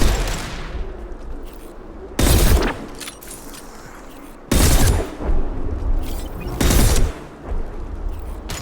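Impact shot weapon from Mass Effect 2 fires in loud, sharp bursts, about three big blasts a couple of seconds apart over a rumbling battle backdrop with scattered smaller shots.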